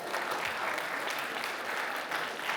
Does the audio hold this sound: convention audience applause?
yes